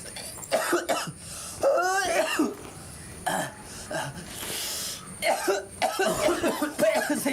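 Harsh repeated coughing and throat clearing after smoking a cigarette, in close bursts with short pauses, mixed with brief speech from others nearby.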